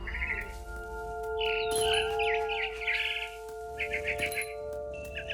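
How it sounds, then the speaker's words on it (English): Bright barn swallow chirps from What Remains of Edith Finch come in short bursts over a steady tonal hum, the twittering fairly clear and close. "I heard chirping outside my window. It was a barn swallow going back to her nest"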